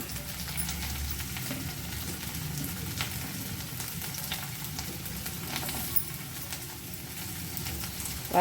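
Green chilies sizzle in hot oil in a frying pan while making spicy eggplant chutney, a steady close crackling fry with faint stirring, no talking.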